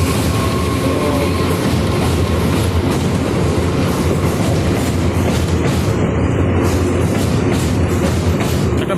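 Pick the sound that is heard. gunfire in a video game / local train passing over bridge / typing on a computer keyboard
local train passing over bridge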